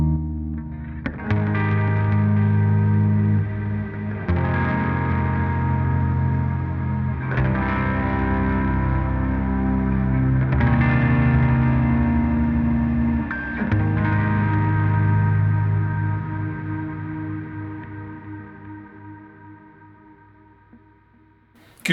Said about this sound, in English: You can hear those nice long reverb trails there.